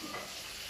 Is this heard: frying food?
yes